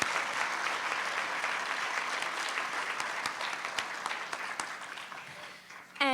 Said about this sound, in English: Why don't we just give all of our award recipients a big hand of applause?